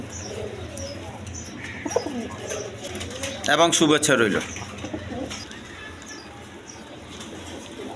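Two Rajgolla female pigeons coo softly at a breeding farm, with low repeated cooing across several seconds and someone speaking briefly over them, plus a louder flurry of bird noise near the middle.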